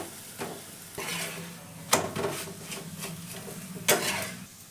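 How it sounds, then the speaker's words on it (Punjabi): A paratha cooks on a hot tawa griddle, giving a steady sizzle broken by a few sharp metallic scrapes and taps as it is turned and pressed. "ਆਪਾਂ ਤਵੇ ਦੇ ਉੱਤੇ ਹੀ ਥਲ-ਥਲ ਕਰਕੇ ਇਹਨਾਂ ਨੂੰ ਪਕਾ ਲਾਂਗੇ ਚੰਗੀ ਤਰ੍ਹਾਂ ਦੇ ਨਾਲ"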